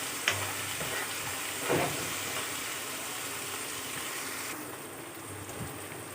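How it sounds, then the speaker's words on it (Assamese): Steady sizzling and crackling of boiled chickpeas and other ingredients frying in a pan, with a few soft clinks of a utensil against the pan. "আৰু গোটেইখিনি অকণমান"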